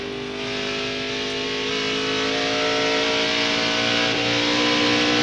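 A race truck in the 2000 NASCAR Craftsman Truck Series Florida Dodge Dealers 400 accelerating out of turn four, its engine roar climbing steadily in pitch and loudness, loud and close.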